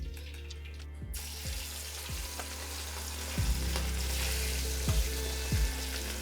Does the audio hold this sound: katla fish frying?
yes